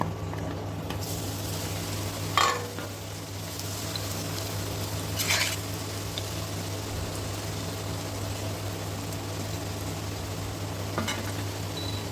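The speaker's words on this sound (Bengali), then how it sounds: "এরকম করে সবগুলো আলু ভেজে নেব।" French fry potatoes sizzle steadily in hot oil, an even hissing bubble close by with a few faint clinks from utensils and no voices.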